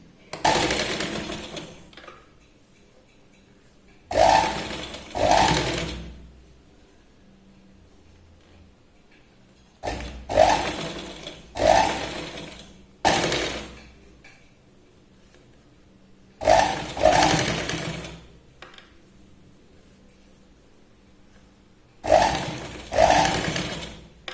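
A sewing machine stitches piping onto a katori blouse in short, loud bursts of whirring motor, about seven runs spaced by quiet pauses, close up and without talk.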